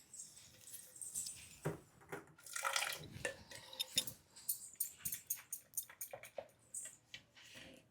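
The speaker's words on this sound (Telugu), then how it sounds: "ఇందులో కొంచెం వాటర్ వేసి పోస్తాను" Water trickles and splashes into a bowl of freshly ground dosa batter in a home kitchen, a faint sequence of irregular drips and small pours with soft clinks.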